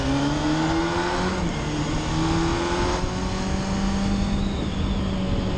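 A motorcycle engine revving at the start of a short ride, loud and close, holding a steady drone with gently rising and falling pitch throughout, no voices.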